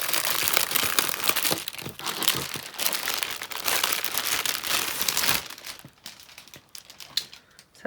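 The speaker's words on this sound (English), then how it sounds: "So please excuse all the crinkling." Plastic packaging crinkles and crackles close up as it is opened, dense rustling bursts for several seconds, then sparser crackles trailing off near the end.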